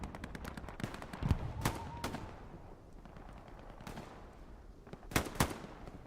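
Gunfire in the console game Hell Let Loose during a large competitive match, with sharp shots scattered across the clip and a loud close pair of bursts near the end over a steady battlefield rumble.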